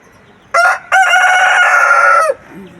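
Loud, nearby crowing from a rooster kept on a rooftop garden on a misty winter morning: a clipped opening note, a brief pause, then a sustained crow that fades out cleanly.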